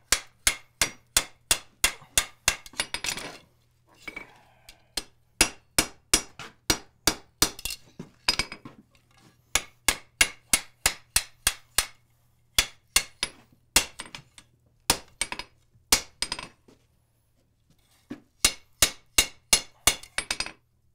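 Hot iron hammered around a half-inch drift at a blacksmith's anvil, rapid bursts of sharp metallic ringing strikes in quick rhythmic runs separated by short pauses, close and clear with a faint steady hum beneath.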